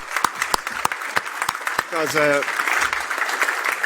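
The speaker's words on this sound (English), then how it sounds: "I think there's a round of applause for the team" An audience at a cyber security talk breaks into applause for a team, a burst of clapping that rises and sustains for a few seconds while a speaker talks over it.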